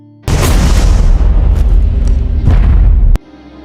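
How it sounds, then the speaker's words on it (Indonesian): Gunfire in a heist film action scene: a sudden, very loud, sustained blast of shots with a few sharper cracks inside it, lasting about three seconds before cutting off abruptly, with no voices. "Leo langsung melepaskan tembakan untuk membunuh Charles dan anak buahnya"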